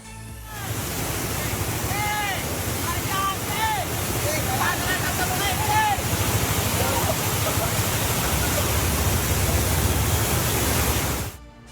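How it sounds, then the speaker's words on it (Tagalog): Loud, steady roar of floodwater rushing across a road in Dagatan, Lipa, Batangas, a constant broadband wash of churning water with faint higher tones flickering over it. "makikita ang mabilis at malakas na pagragasa ng baha sa kalsada"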